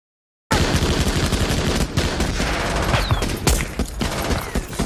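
An MG42 machine gun fires in a war film battle scene, with loud, dense continuous bursts of rapid gunfire that are close and sustained throughout after a brief silence at the start.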